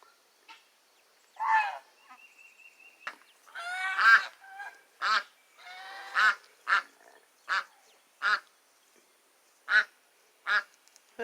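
Harsh, repeated honking squawks from guinea fowl, irregular at first and then settling into a steady run of loud, grating alarm calls in a barnyard.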